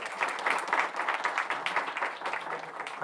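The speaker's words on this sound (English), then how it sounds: "So give them a round of applause again." A crowd at a school board meeting applauds steadily for about three seconds, dense overlapping claps at an even, moderately loud level with no voices over it.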